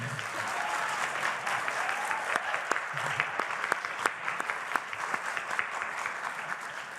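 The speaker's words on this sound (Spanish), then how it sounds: "Fuerte aplauso" Steady, dense audience applause at a solidarity event ceremony, with a few sharper individual claps standing out near the front and a faint voice underneath.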